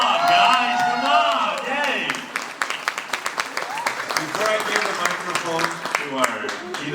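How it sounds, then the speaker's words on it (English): Audience applause at a mall business event swells into a burst of steady clapping with some cheering, while a host talks over it excitedly through a microphone. "give him a big round of applause, guys"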